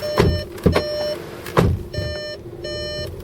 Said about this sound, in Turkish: Çünkü çok güzel bir kapı açıp kapanma sesi var arkadaşlar.